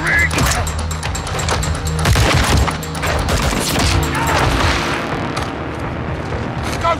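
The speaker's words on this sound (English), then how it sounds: "Gunshot is down there!" Rapid gunfire and heavy impacts in the Modern Warfare 2 video game, loud bursts and cracks clustered early then thinning out, mixed with explosive booms.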